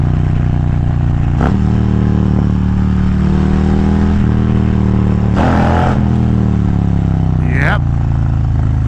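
A Harley-Davidson Road Glide performance bagger with a new clutch runs as a steady, close engine drone, broken by three sharp gear-change clunks where the note drops and climbs again through upshifts and downshifts.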